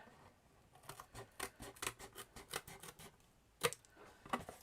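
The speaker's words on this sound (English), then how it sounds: "I'm using the scissors the opposite way to what I would normally, because they're curved." Curved craft scissors snip through card or paper for a miniature science lab diorama, a rapid series of crisp cuts followed by a couple of sharper closing snips, close and fairly quiet.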